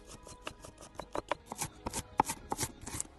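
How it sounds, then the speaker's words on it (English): A knife chops through an onion on a board, giving a quick, uneven run of sharp, close taps and slicing strokes, all fairly faint and with no voices. "Chop it up, chop it up."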